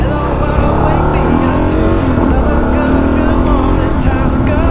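Single-cylinder Kawasaki KLR650 motorcycle engine held at high revs nearby, a loud, continuous roar with slight swells in pitch throughout.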